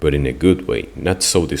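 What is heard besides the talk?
No distinct noise like a dog, phone or traffic.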